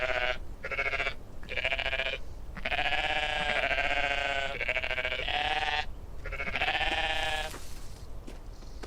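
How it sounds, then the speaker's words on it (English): A goat in a video game bleats repeatedly in long, wavering cries with short gaps between them, close and clear over a low background hum. "Another sheep. No, a goat."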